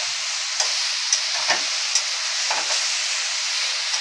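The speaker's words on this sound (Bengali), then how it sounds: "পেঁপেটাকে আমি ভালো করে ভেজে নিচ্ছি।" Grated raw papaya frying in a pan for a Bengali halwa, giving a steady soft sizzle and hiss with a few faint stirring scrapes and taps, close and alone with no voices.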